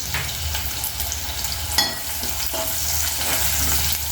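Sliced okra fries in a pan with a continuous, close crackling sizzle, interrupted by a couple of sharp stirring clinks and scrapes; no talking.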